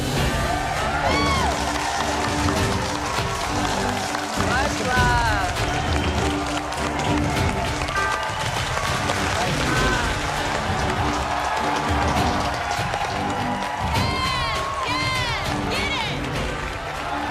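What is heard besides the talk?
crowd of former contestants cheering and applauding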